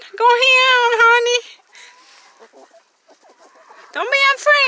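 A farm rooster crows loudly and close by in two bursts, at the start and the end, with soft clucking and faint voices in the quiet gap between.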